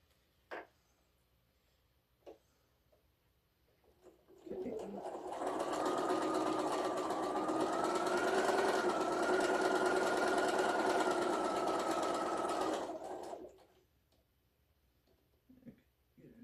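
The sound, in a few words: sewing machine stitching a quarter-inch quilt seam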